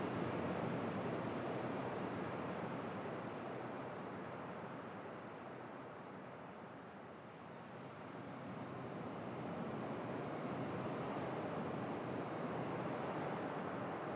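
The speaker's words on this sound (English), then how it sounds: "The sound of the sea is still there." Ocean waves wash steadily onto a shore as a soft, continuous roar that swells, eases slightly in the middle, then builds again, with no voices and a faint windy quality.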